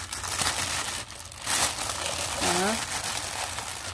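A plastic bag crinkles and crumples as it is wrapped around an ice pack, close-up rustling bursts with a brief pause, while a person talks.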